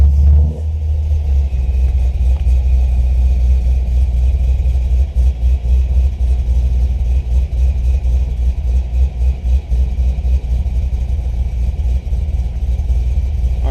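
A 2009 Chevrolet Corvette's engine catches and settles into a loud, steady, deep rumbling idle close by, running on without pause or talk.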